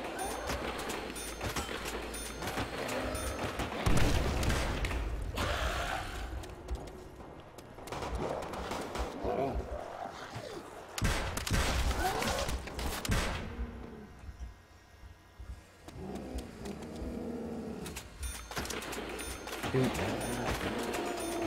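A trench gun shotgun fires in a Call of Duty: World at War multiplayer match, giving repeated sharp blasts mixed with other gunfire while a player talks over the action.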